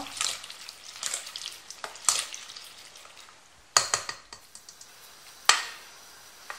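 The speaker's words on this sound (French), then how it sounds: "Je les mélange et je les mets directement dans la poêle" Drained potatoes and onions frying in a pan, a soft crackling sizzle with scattered sharp ticks and clinks of a utensil stirring, close and fairly quiet, with no talk.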